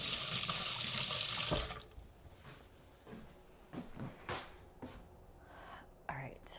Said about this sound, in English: Okay, I got a little bit on my hand. Let's wash that off.